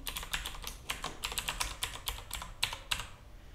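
Quick irregular clicking of computer keyboard keys as an email address is typed, close and fairly soft, a steady burst of keystrokes with no talking.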